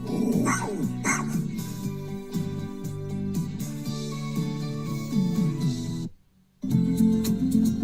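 A dog barking at a dog boarding campground, repeated barks and yips layered over busy background sound, with a brief drop to near silence before the noise resumes.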